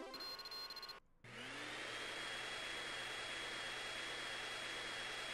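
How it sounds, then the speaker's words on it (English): A vacuum tool in the video game Spectrobes: Beyond the Portals whirs on after a brief tonal game sound and a short gap, spinning up into a steady loud jet-like suction drone that holds to the end. "Oh, I need the vacuum for this,"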